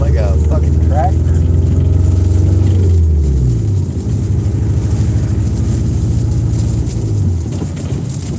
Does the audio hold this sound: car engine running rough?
yes